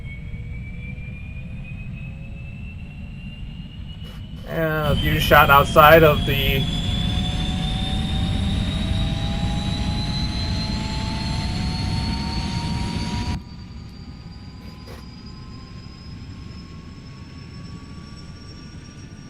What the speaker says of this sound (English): as the clutch engages, I'm going to allow the rotor blade to synchronize with the engine RPM.